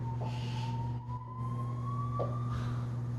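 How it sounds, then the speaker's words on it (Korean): A siren wails in the distance with a slowly rising tone over a steady low hum, faint but continuous, briefly dipping before returning. "밖에 지금 사이렌 소리 들리지?"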